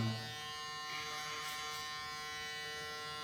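Electric hair clippers buzz steadily during a men's short layered fade haircut in a barbershop, a continuous close hum with no talk.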